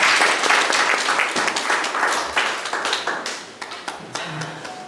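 Congregation applause at a national security prayer meeting welcoming a pastor to the front: dense, steady clapping from many hands that stays loud throughout, with individual claps popping out near the end.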